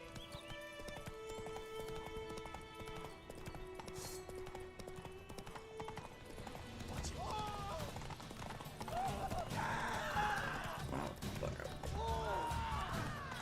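Galloping hoofbeats of the horse Roach in a video game, a brisk clip-clop rhythm with a neigh, set among game music and effects while someone talks over it.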